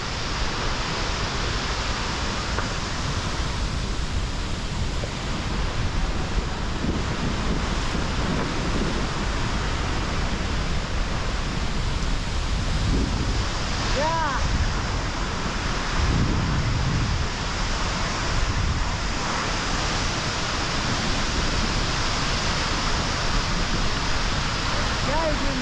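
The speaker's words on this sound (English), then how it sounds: "now just like the rain, like a very shower rain." Heavy spray and roar of the Dragon Waterfall at Bat Xat, a dense, constant rushing wash of water with wind buffeting the microphone, loud and close throughout.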